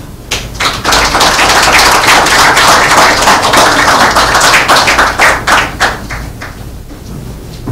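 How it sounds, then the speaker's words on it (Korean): An audience at a Korean history forum claps to welcome a speaker to the stage, with loud, close, crisp claps that thin into scattered individual hand claps toward the end. "뜨거운 박수로서 맞이하시면 고맙겠습니다"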